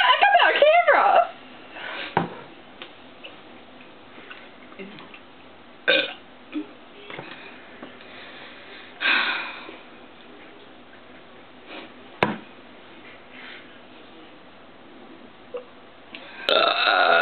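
Someone burps after vomiting into a trash can, with several short bursts spread across the stretch. The burps are loudest at the start and again near the end, and faint room sounds fill the gaps between them.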